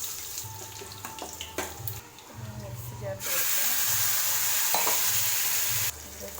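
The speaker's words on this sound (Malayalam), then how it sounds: "എണ്ണ ചൂടായിട്ടുണ്ട് കടുക് ഇട്ട് കൊടുക്കാം ചെറുള്ളി കറിവേപ്പിലിട്ട് കൊടുക്കാം" Mustard seeds, shallots and curry leaves dropped into hot oil for tomato rasam, a steady close sizzle that swells to a loud bright hiss partway through, with faint clatter of stirring.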